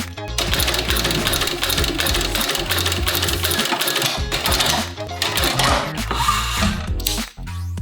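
A sewing machine stitches a custom-made leather bag, running loud and close in a dense, steady mechanical rattle that continues almost without pause before a brief dip near the end.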